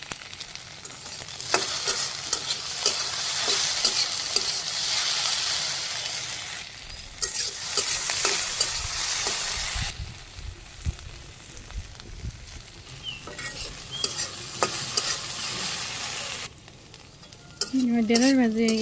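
Sliced okra with a few green chilies, salt and turmeric sizzles and fries in a pan in a Bangladeshi village kitchen, a continuous crackling hiss with occasional scrapes of stirring, easing off near the end.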